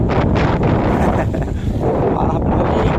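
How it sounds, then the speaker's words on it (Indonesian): Strong wind at sea buffets a Taiwanese fishing boat riding on a parachute anchor, producing a loud, continuous roar of gusts and microphone rumble with no break. "lagi angin besar lumayan"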